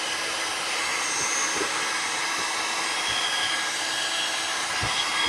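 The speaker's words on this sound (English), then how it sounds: "So I'm just going to heat that resin up right here on the top so I can get it out." A heat tool blows hot air over resin in a mold to free the piece, a loud steady whooshing drone held close for the whole stretch with a few faint knocks underneath.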